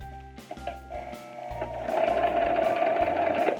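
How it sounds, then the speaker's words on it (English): A sewing machine stitches fabric for a face mask made from a Crown Royal bag, starting with short stop-start bursts and settling into a steady, close, fast whirring run. "Now you want to move to the other side of your fabric and start sewing at the curved point."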